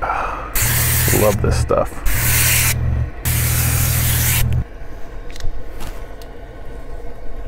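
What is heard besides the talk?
spray gun spraying SpeedClean coil cleaner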